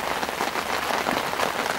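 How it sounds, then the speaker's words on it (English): Steady rain drums on a fishing shelter beside the water, a dense, continuous patter of drops close by with no voices, holding an even loudness throughout. "I'm just going to hope this rain dies off a bit"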